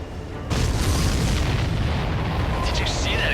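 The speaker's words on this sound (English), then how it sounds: "Did you see that explosion?" A supply ship hit by a missile explodes in Ace Combat 7: Skies Unknown, a sudden loud boom that swells into a long, heavy rumbling roar, with a voice briefly talking near the end.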